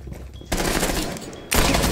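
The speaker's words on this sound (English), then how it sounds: "Is my man's using an AK with suppressor?" Suppressed AK rifle fire in a video game, heard as dense, rapid automatic bursts that begin suddenly and grow louder near the end, with no speech over them.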